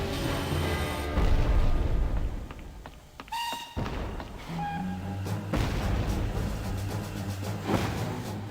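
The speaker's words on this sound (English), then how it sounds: "The pounding of guns from the common grew louder." Heavy booming artillery thuds roll out repeatedly over a dense, rumbling backdrop in a War of the Worlds stage production, with low sustained drones beneath.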